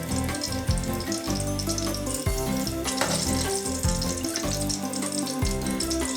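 Jamaican fried dumplings bubble and sizzle in hot oil, a dense continuous crackle with some clattering and low thumps, loud and close with no talk.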